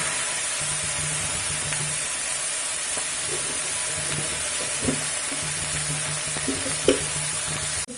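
Potatoes and eggplant sizzle steadily in a hot pan, a constant broad frying hiss with occasional soft stirring clinks and scrapes, close and continuous for the whole stretch with no voices.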